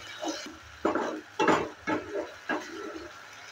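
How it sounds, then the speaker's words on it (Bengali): Spice paste stirred in a pan for aloo dimer jhol (Bengali potato and egg curry): a few scraping, clattering strokes of a spoon against the metal, spaced about half a second apart, near and moderately loud with no talking. "ভালো করে আবারও নেড়ে চেড়ে নিচ্ছি।"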